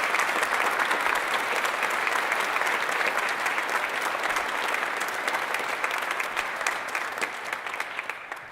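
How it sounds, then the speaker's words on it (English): Sustained applause from a large audience at a Veterans Day ceremony honoring veterans, steady and full for several seconds before tapering slightly near the end. "So let's give them another round of applause."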